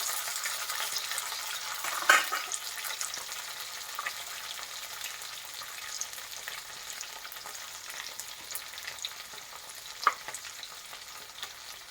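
Green chilies, dried red chilies and tomato frying in a pan for a pointed gourd and shrimp paste, a soft continuous sizzle with a few faint clinks of a spoon stirring.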